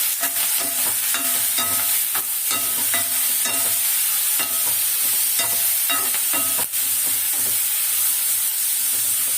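Curry leaves and spices sautéing in a pan for fish curry, a loud steady sizzle with hissing steam and repeated scraping strokes of a spoon stirring at an even rhythm, close up with no talk.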